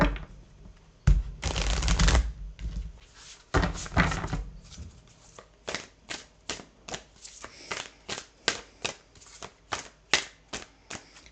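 Sufi Wisdom oracle cards are shuffled by hand: a couple of longer riffling bursts, then a quick rhythmic run of crisp slaps and taps, close and fairly quiet.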